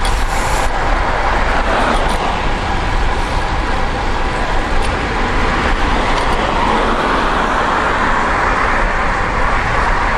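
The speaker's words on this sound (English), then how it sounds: "Car is coming behind me." A car comes up from behind a cyclist on a rural Connecticut road and passes, a loud, continuous roar of engine and tire noise mixed with steady wind rush, with no voices.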